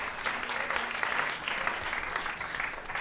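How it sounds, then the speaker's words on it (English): Audience at a classical music and craft beer trivia event breaks into steady, sustained applause, a dense wash of clapping that holds at an even level throughout without pause. "Let's have a big round of applause."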